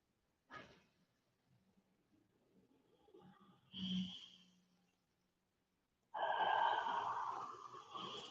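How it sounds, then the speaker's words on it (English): Soft ujjayi ocean breathing during a yoga class: slow, whispery breaths drawn through a constricted throat, a short exhale, a longer one, then a sustained airy rush, close and quiet with no talking. "start to find the sound of the ocean on the back of your throat"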